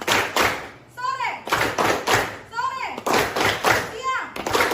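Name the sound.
children clapping in a classroom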